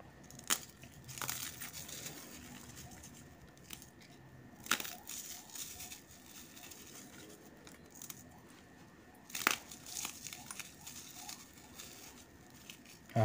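Four cheese-scented sticks are crushed by hand for carp fishing bait, giving a few sharp crunching snaps spaced several seconds apart with soft crinkling and rustling in between, close up and without talk.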